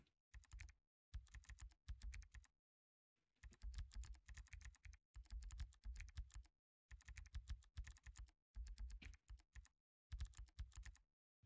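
Fingers type on a computer keyboard right beside a microphone, with sharp, fast clicking coming in several bursts broken by short silent pauses.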